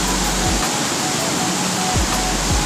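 Water rushes in a steady, loud roar, a waterfall heard from nearby at the top of the falls, continuous and unbroken throughout.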